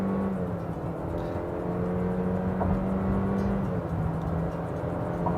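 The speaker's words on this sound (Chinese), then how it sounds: "大家相信从麦克风里面应该非常明显听见它非常难听的发动机的声音" A 2018 Honda Accord with a 1.5T engine pulling hard at around 120 km/h, heard from inside the cabin as a steady droning engine tone that rises slightly, with road and wind rumble beneath.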